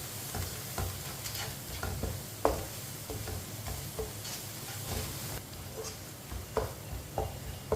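Spices frying in a pan on low heat, giving a soft continuous sizzle with light scraping stir strokes and occasional ticks, fairly quiet and close, with no talking.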